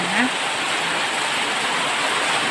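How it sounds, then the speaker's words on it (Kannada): Steady rain falls in a dense, even hiss, a continuous wash of noise close by with no pauses. "ನೋಡಿ ಫ್ರೆಂಡ್ಸ್ ಮಳೆ ಬರ್ತಾ ಉಂಟು"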